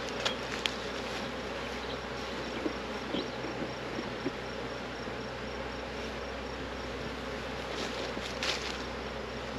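Honey bees buzzing in an opened hive from swarm colonies, a dense, steady drone filling the whole stretch at close range, with a few nearer bees zipping past and no voices.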